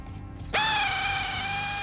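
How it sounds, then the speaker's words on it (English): Impact wrench on a Camaro small-block V8 spins off the main harmonic balancer bolt, a single sustained whining burst starting abruptly after a brief quiet moment, loud and close with no talking. "Using an impact wrench, remove the main harmonic balancer bolt."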